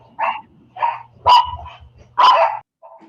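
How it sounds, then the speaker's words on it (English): A dog barks in short bursts, four or five sharp barks spaced irregularly, fairly close, with a faint low hum underneath. "Sorry about the barking dog."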